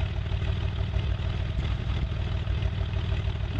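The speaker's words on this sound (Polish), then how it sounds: "Silnik się zagrzał" A light aircraft engine in the X-Plane 11 flight simulator runs warmed up while taxiing before takeoff, a loud, dense, steady drone with a buzzing rattle, heard alone with no talk.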